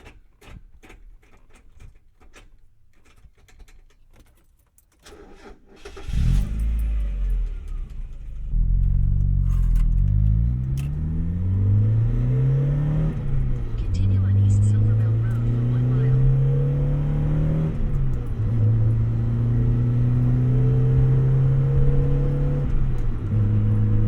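A 1991 Mazda Miata roadster's engine cranks and catches after a quiet start, then settles into a close, loud run, revving and pulling through rising gears as the car drives off, its drone continuous to the end.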